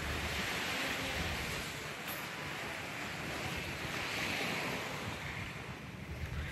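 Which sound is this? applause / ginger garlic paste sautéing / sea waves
sea waves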